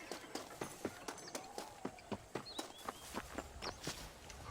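A horse in Red Dead Redemption moves at a steady walk, its hooves giving an even, regular clip-clop of sharp hits over faint outdoor ambience, with no talk.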